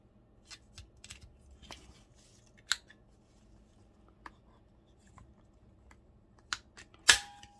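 Scissors snip through journal paper in a few sharp, quiet cuts, spaced between soft rustles and handling noises, ending in a brisk burst of cutting.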